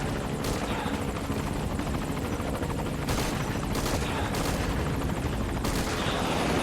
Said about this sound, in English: Oh, an enemy chopper.